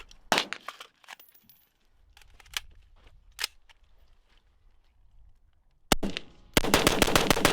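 AR-15 rifle fired during a torture test: scattered sharp shots with quiet gaps, then a loud rapid burst of repeated gunfire at the end.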